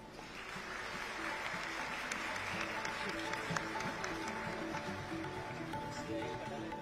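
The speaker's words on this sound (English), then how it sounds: "Ladies and gentlemen, a round of applause." Audience applause at a National Startup Day ceremony at Jio World Centre, marking an MOU exchange with SIDBI: steady, sustained clapping from a large hall crowd, moderately distant, with faint voices mixed underneath throughout.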